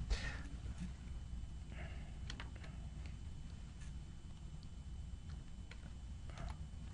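Clicking keystrokes on a worn computer keyboard in a trading-analysis session, a steady run of light, close taps with scattered louder presses and no talk over them.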